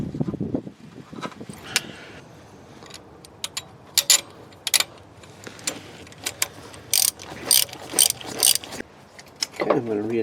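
A ratchet tightens bolts on the water pump of a 2000 Dodge Dakota, sounding as sharp clicking bursts in short irregular runs, close by, amid clanks of tools and metal parts.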